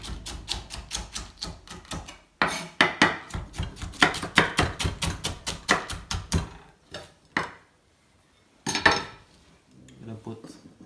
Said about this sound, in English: So we're gonna chop our artichoke.